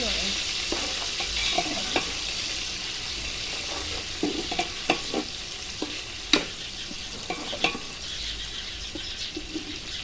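Onions fry in a pan for beef yakhni pulao, with a steady soft sizzle underneath and scattered pops, taps and scrapes of stirring close by, no talking.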